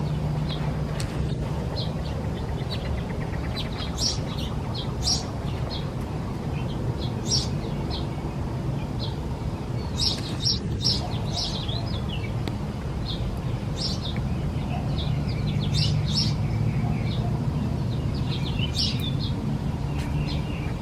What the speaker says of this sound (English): A nice time of the morning to just listen to the birds